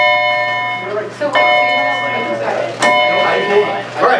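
A school bell rings through a classroom, its steady sustained metallic tones carrying on under a teacher's continuous talk.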